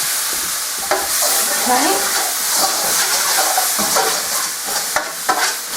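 Chopped vegetables for a smoked haddock fish pie sauté in a hot pan, a loud, steady sizzle with frequent stirring scrapes and clacks. A brief spoken word sits over it.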